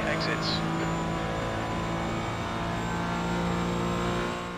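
BMW GT4 race car in iRacing at full throttle on a long straight, a steady droning engine note held at high revs for several seconds, with a voice talking over it.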